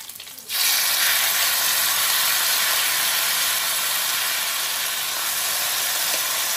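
Boiled mutton chops hit hot oil in a pressure cooker seasoned with cinnamon, cloves, ginger and curry leaves, setting off a loud, steady, hissing sizzle that starts abruptly and holds unbroken to the end.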